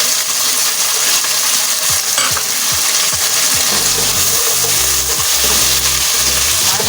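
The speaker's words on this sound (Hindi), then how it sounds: "उसके बाद डालेंगे अदरक लहसुन का पेस्ट, नमक" Ginger garlic paste and salt sizzle loudly in a pan of oil for mash dal, a steady dense frying hiss with scraping and stirring clatter, close and continuous.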